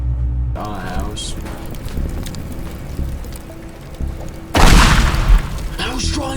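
Explosions in the video game Teardown go off as a loud burst of booming and crumbling debris midway through, with a player talking excitedly before and after.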